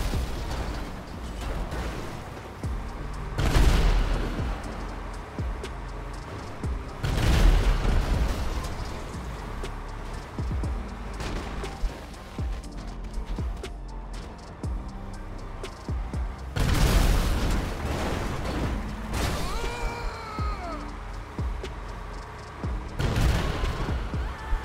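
Tank cannon fire and explosions in GTA FiveM, several heavy booming blasts spaced a few seconds apart over mechanical creaks and rumbling, loud and close.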